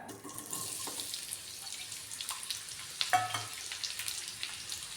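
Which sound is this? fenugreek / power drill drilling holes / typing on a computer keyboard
fenugreek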